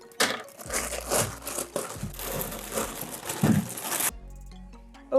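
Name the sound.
cutting open an anime figure box's packaging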